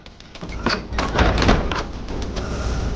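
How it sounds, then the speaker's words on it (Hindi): A door is shut during a tense Hindi film scene, giving a dull thump amid a busy, noisy room with overlapping movement and brief voices. "जल्दी से दरवाजा बंद करो।"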